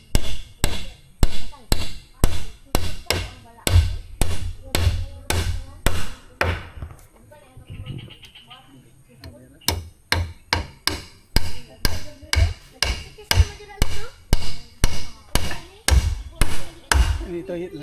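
Steady hammer blows drive nails into wood while building the kingpost of a hanging tree house, a fast even rhythm of loud close thuds, pausing briefly midway before resuming, with faint voices in the background.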